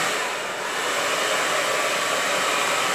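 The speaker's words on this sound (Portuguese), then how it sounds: "Vamos ver se o secador funciona aqui." A hair dryer runs continuously at close range, a steady loud whooshing drone with no pauses and no voices.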